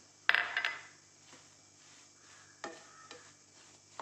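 Raw cashew pieces drop into a pan of rava upma with a sharp clattering rattle, then a low sizzle and a few light scrapes of stirring follow in a quiet kitchen.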